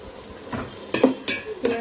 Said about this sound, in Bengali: পেঁয়াজটাকে এখন ভালো করে ভেজে নেব